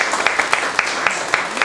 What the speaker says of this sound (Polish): Także brawa dla Państwa